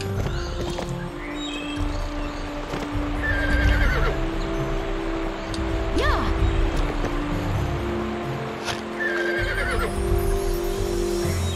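Horses neigh and whinny in Barbie Horse Adventures, with clip-clopping hooves, chirping birds and ambient game music around them, loud and close with no speech over it.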